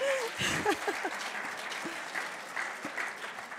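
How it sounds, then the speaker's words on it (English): Audience applause at the IPT 2019 physics grand final: steady, moderately close clapping throughout, with a few voices and laughs rising over it. "I never had a round of applause for him before, but thank you."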